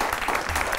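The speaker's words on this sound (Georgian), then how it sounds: "აპლოდისმენტები." Brief burst of applause from a studio audience on a late-night television talk show, a thick, even patter of many hands clapping at moderate volume.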